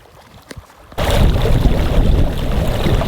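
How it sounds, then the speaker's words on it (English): Water churned by a homemade ice eater powered from a truck battery, a loud, steady rushing surge that starts abruptly after a quiet moment and keeps going without talk. "Getting some pretty good water movement."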